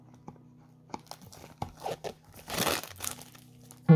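Sealed Yu-Gi-Oh card display box being opened with scissors, plastic wrap crinkling and tearing in close, uneven bursts, building to a longer rustling rip before a sharp handling knock.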